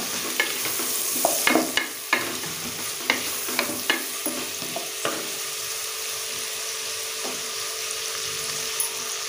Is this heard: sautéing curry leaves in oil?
yes